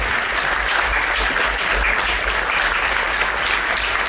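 Audience applause welcoming jazz musicians to a concert; dense, steady clapping from a full hall, even in level throughout with no talk.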